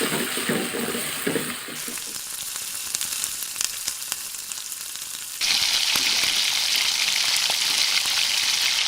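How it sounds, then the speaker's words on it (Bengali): Chopped onions frying in oil in a pan for a beef and potato curry, a loud continuous sizzle with stirring scrapes that swells sharply partway through, close with no talk. "পেঁয়াজ কুচি, ভালোভাবে নাড়তে হবে। লাল রং আসা অবধি নাড়তে থাকুন।"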